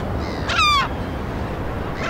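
Gulls call at an island breeding colony after fledging, one close, loud descending cry standing out over steady wind or surf noise, with another call starting at the end.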